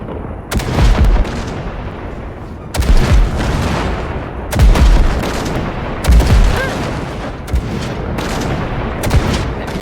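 Heavy cannon blasts from a cargo ship shooting at wrecks in Cyberpunk 2077 boom out in about five loud bursts spaced a couple of seconds apart, each followed by a rumbling decay.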